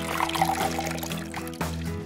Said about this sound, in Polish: wystarczy trochę polać je wodą